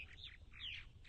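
Purple martins at their nests on eastern Long Island give soft, liquid chirps and warbling calls, several short notes in quick succession over a faint outdoor background.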